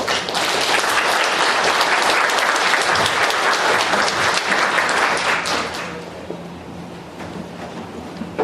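A lecture-hall audience applauds to welcome a professor taking the stage, a dense, loud wash of clapping that holds steady and then thins out toward the end.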